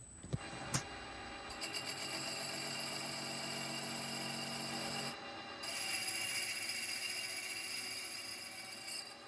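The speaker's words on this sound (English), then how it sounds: "With the chuck tightened, I proceed to bore out the hole to match the diameter on the reverse side." A metal lathe bores out the centre hole of a Kawasaki Z1 rear sprocket held in a tightened chuck, a steady scraping, rasping cut running close and loud for most of the span after a couple of sharp knocks at the start.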